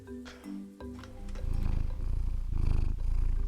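A cat purring in the video game Dwarf Fortress, a steady close rumbling purr that swells louder partway through, after a few brief game tones at the start.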